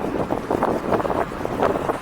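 Wind buffets a microphone outdoors among buildings, producing a loud, gusty low rumble that swells and fades over a couple of seconds.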